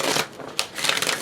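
Tarot cards being shuffled close up, a brisk riffling flutter that lasts about a second.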